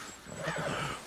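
A horse in the Red Dead Redemption video game gives a single close, loud whinny that wavers up and down for about a second, with no talking over it.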